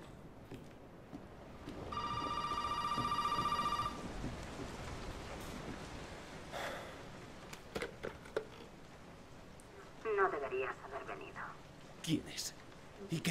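A telephone in Resident Evil 7 gives one clear electronic ring lasting about two seconds, followed by rain-like ambience, scattered clicks and a brief metallic rattle.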